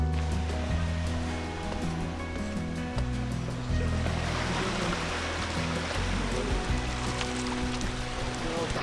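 Waves wash onto Barrier Beach on Madeline Island in a continuous rushing surf, with a speaking voice faintly present over the steady water noise.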